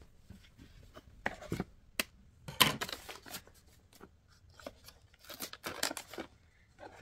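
Scissors snipping open a wrapped gift package holding chocolates, a scattered series of close, sharp cuts and crinkly paper rustles against a quiet room.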